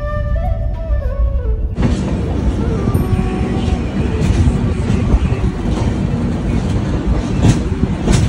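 A Duronto Express passenger train runs on rails near Kharagpur with a loud, continuous rumble and rhythmic clickety-clack heard from inside the carriage. A brief tonal sound plays before the rumble swells in.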